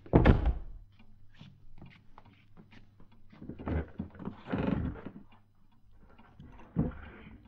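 Hooves clop and thud irregularly, with a rough, breathy whinny in the middle, fairly faint and close, no talking.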